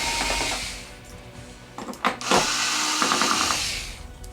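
Screws being taken out of the plastic back cover of a TCL 55-inch Roku TV, model 55S401, during repair: steady mechanical whir from a screwdriver with scraping and clicking bursts near the middle, close and moderately loud, no talk.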